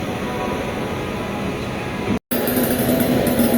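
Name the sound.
Pandharpur–Mysore Gol Gumbaz Express train departing platform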